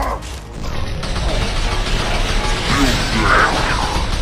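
A heavy metal shutter mechanism grinding and creaking closed in Mass Effect 2, a loud continuous mechanical rumble amid combat noise.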